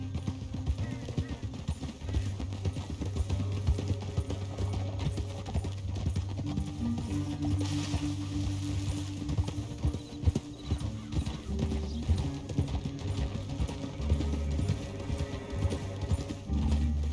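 Horse hooves clip-clop steadily in Red Dead Redemption 2, a rhythmic gallop with an occasional whinny, mixed under game music and spoken dialogue.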